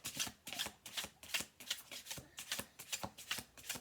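Tarot cards being shuffled for a collective reading, heard as a close, crisp series of riffling bursts repeating about twice a second in a steady rhythm, with no talking.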